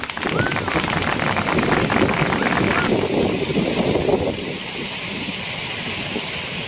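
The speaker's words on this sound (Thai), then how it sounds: "ที่ฝนตก" Steady heavy rain pours down beside a fishing pond with a dense hiss, loudest at first and easing slightly after a few seconds.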